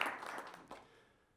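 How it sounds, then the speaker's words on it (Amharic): An audience at a savings and credit cooperative's general assembly claps. A short burst of applause sounds at a moderate distance, dense at first and then quickly fading away. "በእናንተም ስም ሞቅ ያለ ጭብጨባ ብትሰጡት ጥሩ ነው ብዬ አስባለሁ"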